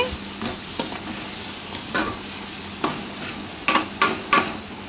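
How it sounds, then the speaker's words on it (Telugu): Onions fry with a steady, close sizzle in a pan for an Andhra-style crab curry, with a ladle scraping and clacking against the pan in irregular strokes that grow more frequent toward the end; no one speaks. "ఈ విధంగా మొత్తం కూడా గరిటతో కలిపేసుకోవాలి."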